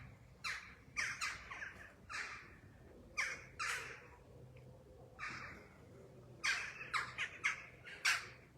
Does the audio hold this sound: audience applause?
no